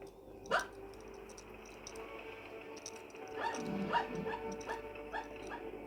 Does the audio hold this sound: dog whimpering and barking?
yes